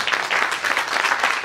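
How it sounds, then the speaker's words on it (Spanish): Audience applause welcoming a writer and visual artist to an education talk, an even, continuous wash of many hands clapping, fairly close and steady throughout the short stretch. "le pedimos que le demos un fuerte aplauso"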